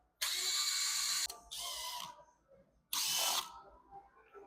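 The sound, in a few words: ratchet loosening 8 mm bolts on 6.7 Powerstroke upper intake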